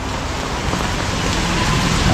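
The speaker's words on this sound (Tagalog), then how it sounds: "Nakakita niyo naman lakas ng ulan dito." Heavy rain pours down steadily and loudly as a dense, unbroken roar of falling water close by, with no voices.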